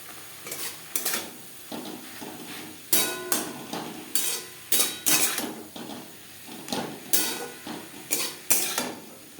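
Metal spoon repeatedly clattering and scraping against a pot while chicken vegetable soup with cabbage is stirred, giving close, rhythmic knocks in bursts with no voices.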